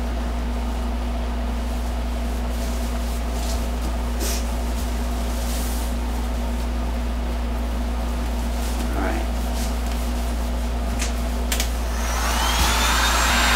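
Heat gun blowing over resin on a wooden table project, a steady loud whooshing hum with constant low drone, intermittent clicks and a rising hiss near the end.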